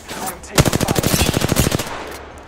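Rapid automatic gunfire from a weapon in the video game Apex Legends, a single dense burst of about a dozen evenly spaced shots lasting just over a second, loud and close, with quiet game ambience before and after.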